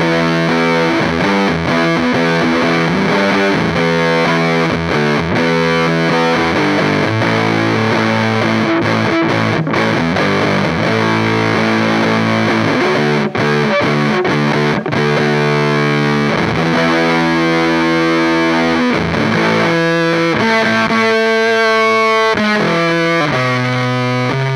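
An electric guitar in humbucker mode through a JHS Bender fuzz pedal plays a continuous, thick, heavily distorted riff for the whole stretch, with sustained chords and quick choppy accents, loud and close, with no talking.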